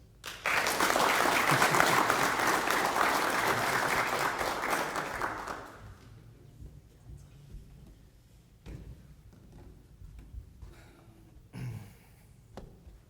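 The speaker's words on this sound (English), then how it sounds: "give them a round of applause" An audience at a military change-of-station ceremony breaks into loud, sustained applause that carries for several seconds, then fades to scattered claps and quiet room noise.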